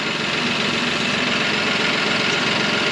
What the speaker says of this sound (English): Now what we're gonna do is we are going to lower the loader.